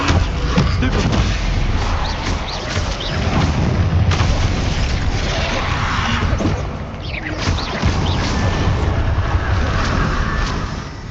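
Spell-casting combat in Hogwarts Legacy, a Stupefy stunning spell amid a steady stream of loud booming magical blasts and impacts, dense and continuous, with battle noise layered over everything.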